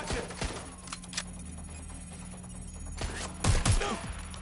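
Video game gunfire crackles in a few sharp bursts at the start and again near the end, with heavier thumping shots, over a steady low hum in between.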